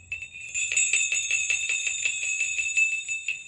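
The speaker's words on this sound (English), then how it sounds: "Do you know what the sound of our sleigh bells is? I have some right here." Sleigh bells jingle in a steady, rhythmic shake for about three seconds. The bright, close tinkling sounds alone, with no voices.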